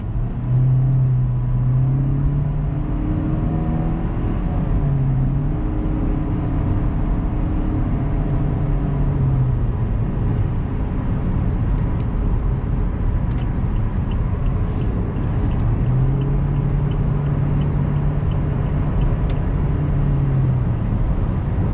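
A 2014 Toyota Corolla S with a 1.8 liter engine and CVT transmission cruises on a freeway, giving a loud, steady cabin drone of engine hum, road rumble and wind noise that continues throughout without talking.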